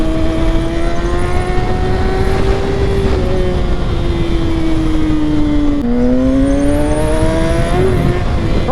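A 2022 Kawasaki ZX6R 636 KRT sport bike ridden on the road, its engine loud and close with a sustained rising whine that drops with a gear shift partway through and then climbs again; no speech.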